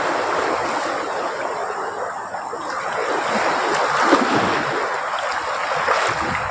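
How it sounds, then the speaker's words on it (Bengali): Gentle sea waves at Gangasagar beach wash in as a continuous broad rush of surf, loud and close, with some wind on the microphone. "হালকা হালকা ঢেউ আছে এখানে।"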